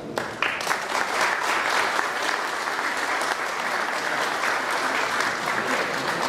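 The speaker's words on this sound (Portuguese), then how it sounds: "merece o nosso aplauso" Audience at a ceremonial inauguration breaking into warm, sustained applause, dense and even for several seconds, close and loud with no talk over it.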